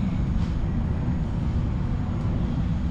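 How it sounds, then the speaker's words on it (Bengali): The 12665 Kanniyakumari SF Express pulls into a clean, crowded station in South India, a steady heavy low rumble that holds without a break for the full few seconds, with no talking. "11:50-এই ট্রেন ঢুকে গেল।"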